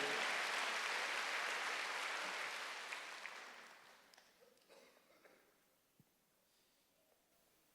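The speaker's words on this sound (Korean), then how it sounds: "지금 빨리 박수를 하세요" A church congregation at a Wednesday worship service claps loudly, the broad applause rolling on for a few seconds before thinning into scattered claps and fading to near quiet.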